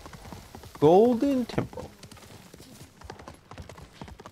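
A horse ridden in Ghost of Tsushima clip-clops in a light steady trot, with a short loud whinny near the start and a voice speaking briefly over it.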